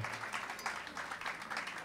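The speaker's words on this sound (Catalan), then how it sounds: "Un fort aplaudiment." Audience applause at an outdoor jazz festival in Vacarisses, Catalonia, a steady crackling wash of many hands clapping together, fairly distant and moderately loud, holding even for under two seconds with no voices over it.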